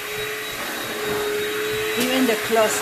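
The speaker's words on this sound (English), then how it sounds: "is vacuuming the area" A vacuum cleaner runs steadily up close, vacuuming the floor before tile grout cleaning, with a constant motor whine. A voice speaks briefly near the end.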